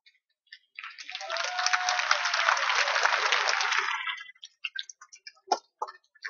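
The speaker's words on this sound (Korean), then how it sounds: "박수를 쳐주신 우리 어르신들" A crowd at a memorial rally on Geumnam-ro in Gwangju bursts into applause that swells for about three seconds, then thins into a few scattered claps.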